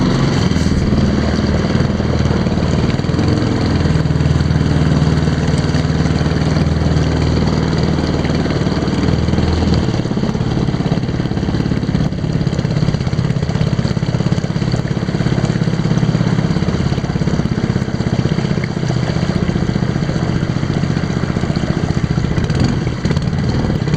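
The outboard engine of a motorized Wavewalk kayak runs steadily while the boat turns on the water, a loud continuous buzzing drone with mechanical clatter that never lets up.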